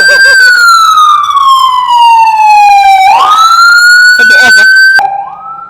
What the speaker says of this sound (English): Then now comes the siren.